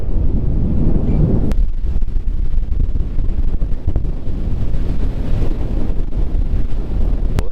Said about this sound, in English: I've actually got the wind pushing me across the deck at the moment.